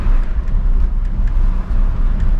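A Volkswagen Fox 1.6 with an automated gearbox drives along, its engine a steady low rumble with road noise heard from inside the car, continuous and fairly loud throughout.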